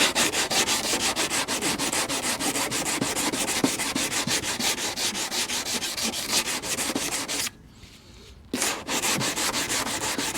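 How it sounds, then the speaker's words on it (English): Steady hand sanding of body filler over a rust repair on car metal, a close, continuous scratchy rubbing with quick rhythmic strokes, broken by one brief pause before the sanding resumes. "all we're gonna do is start to sand it. You can see it's already powdering up."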